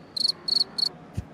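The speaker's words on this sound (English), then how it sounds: "Crickets." A cricket chirping sound effect plays as a comedic beat, three crisp, evenly spaced trilling chirps, close and clear with nothing else over them.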